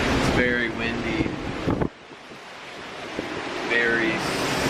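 Strong wind gusts buffet the microphone on the open deck of the Carnival Magic cruise ship at sea, with surf and spray noise beneath, easing briefly mid-clip before rising again; voices talk over it at the start and end.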